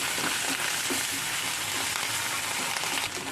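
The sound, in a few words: ginger garlic chili paste frying in oil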